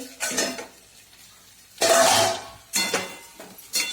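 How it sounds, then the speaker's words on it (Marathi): A gas stove clicked off and a metal plate lifted off a pot of vermicelli upma, giving several close, sharp clanks and metallic scrapes in short bursts separated by brief quiet gaps. "गॅस बंद करते आणि ताट उघडून बघते."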